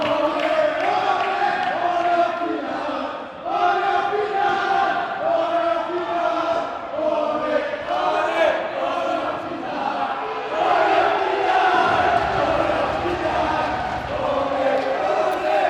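Bordeaux supporters chanting and singing together after their team reaches the final of a Nationale 2 pétanque match, a loud, sustained crowd chorus with rhythmic swells and shouts that fills the whole stretch.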